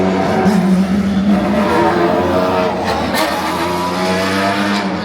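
An Alpine race car running at the GP Explorer event, a loud, steady engine drone carrying on throughout, with crowd noise and background voices mixed in.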